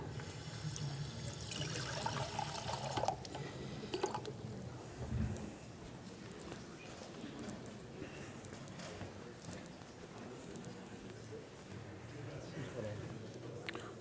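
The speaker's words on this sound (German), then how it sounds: "Den Treibstoff bekomme ich hier aus dem Wasserhahn." Water runs from a tap into a water rocket to fuel it, giving a steady rushing splash that is strongest early on and then settles into a softer trickle, while people talk.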